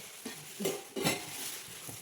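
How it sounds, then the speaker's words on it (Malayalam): Steel utensils clink and scrape quietly as they are lifted and set down, a few light metallic knocks over a faint room hiss. "സ്റ്റീലിന്റെ പാത്രം ഇങ്ങനത്തെ പാത്രം കൊറേയായി"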